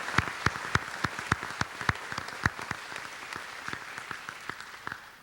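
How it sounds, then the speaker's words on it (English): Scattered applause from a high school commencement audience: a thin, uneven patter of distinct hand claps, moderately loud and steady for about five seconds, with no voices. "Let's give them a round of applause."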